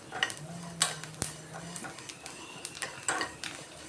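Rice grains rattle and scrape in a pan as they are roasted and stirred with a utensil, with light clinks of metal and a faint sizzle underneath.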